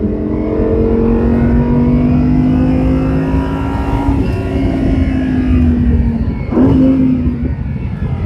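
A car's exhaust note under load on the Monticello race track, a loud, steady engine drone that rises in pitch as it accelerates, with a brief gear-change dip and renewed pull near the end, heard close and alone.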